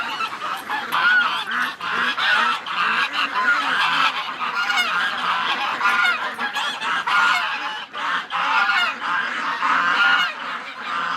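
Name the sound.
geese honking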